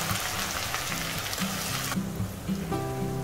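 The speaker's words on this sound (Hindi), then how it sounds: "सबसे पहले आप ऑयल में ये करी पत्ता डालिए और इसके बाद में ये प्याज और ग्रीन चिली डाल दीजिए।" Curry leaves, onion and green chili sizzle and crackle in hot oil, a dense close frying hiss with scattered pops and faint scraping stirs throughout.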